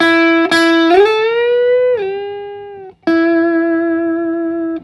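Slow electric guitar lick: a held bent note eases back down, then a second note is picked and rings out with slight vibrato.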